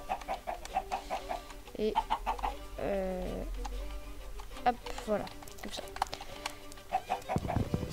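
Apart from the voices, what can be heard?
chickens clucking in the video game Minecraft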